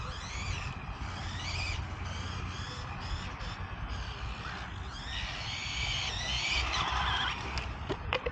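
An HNR Pitbull four-wheel-drive RC rally car drifts outdoors, its tires skidding and squealing in repeated rising and falling screeches over a constant buzzing electric motor, moderately close, with no talking.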